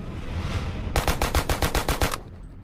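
A gun fires a rapid burst of about eight sharp, loud shots during shooting practice. The burst is evenly spaced and stands out clearly over a low background rumble, then stops abruptly.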